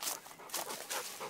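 A playful dog whimpering and panting in short, breathy bursts, fairly close and quiet, with several rhythmic pulses in quick succession and no talking.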